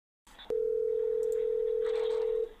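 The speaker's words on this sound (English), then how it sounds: "hold on, my phone is ringing here." A phone tone: a click, then a single steady electronic tone held for about two seconds before cutting off, with faint room noise underneath.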